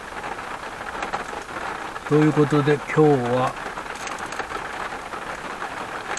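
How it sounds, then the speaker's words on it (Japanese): Steady rain patters on a surface as a soft, continuous wash throughout. Someone speaks briefly in the middle over the rainfall. "今日は雨降りでございます。"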